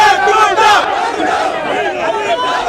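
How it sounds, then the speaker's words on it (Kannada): Supporters of rival parties shout slogans outside a vote counting centre near IDSG College in Chikkamagaluru during a postal ballot recount, a loud massed crowd chanting in rising and falling waves. "ಗೆಲುವು ನಮ್ಮದೇ ಅಂತ ಎರಡೂ ಕಡೆಯವರು ಜೈಕಾರ ಕೂಗ್ತಾ ಇದ್ರು"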